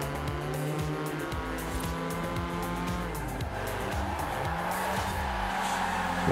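A car drifting in the racing game Forza Horizon 4, its tires squealing in long sustained screeches over a steady, loud engine drone, with no voices over it.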